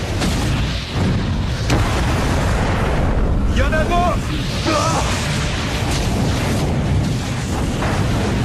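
Film explosions as meteorites strike a Sharknado, a loud continuous roar of booms and rumbling blasts with whooshing debris throughout, while people speak French over the chaos.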